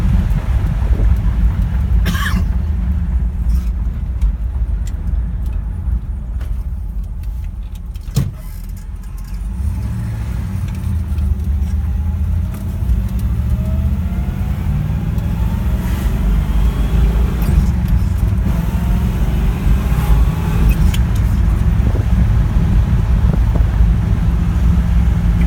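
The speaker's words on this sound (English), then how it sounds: "as we're driving around, this engine pulls well" A restored Pontiac GTO engine drones loudly from inside the car while driving, a steady low rumble with shifts in pitch as it pulls, mixed with road and wind noise.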